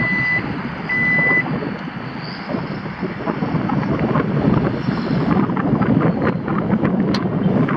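A Chrysler Town & Country Limited minivan unlocked by key fob, with two short high warning beeps at the start over steady wind noise outdoors, followed by a continuous mechanical whir of the door moving.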